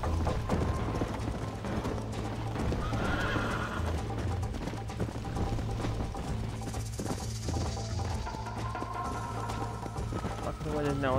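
Horse in the Red Dead Redemption video game, a whinny and clip-clop hooves amid game sound effects, with a person talking over it.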